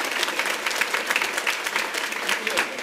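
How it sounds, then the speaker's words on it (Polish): A concert audience applauds a folk song and dance ensemble, steady dense clapping from a large crowd filling the hall throughout, loud and continuous without a break. "Wielkie brawa"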